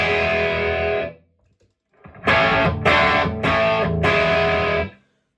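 Electric guitar played through a Boss BP-1w booster/preamp pedal with drive engaged: one sustained distorted chord that fades, then a short pause and four strummed, crunchy chords, loud and close with no talking.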